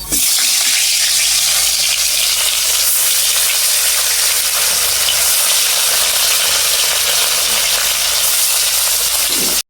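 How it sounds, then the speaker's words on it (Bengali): Fish frying in hot oil while cooking a bata fish curry, a loud, steady crackling sizzle that starts abruptly and holds continuously for nearly ten seconds, close and unbroken. "তাহলে আমি তেল গরম হয়ে গেছে, মাছটি আমি ছেড়ে দিই।"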